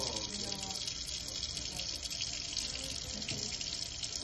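Water runs steadily from a bathroom tap into a sink during denture cleaning, a continuous even splashing hiss that stays close and fairly quiet with no talking over it.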